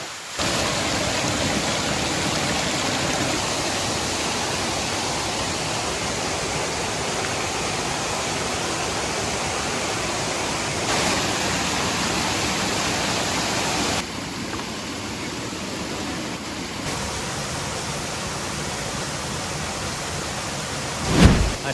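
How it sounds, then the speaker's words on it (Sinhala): A mountain waterfall on the Namunukula hike in Sri Lanka gives off a steady, loud, close rushing roar that fills the whole stretch without pause, and no voices are heard. "දැන් ආවා දියැල්ල පාමුලට"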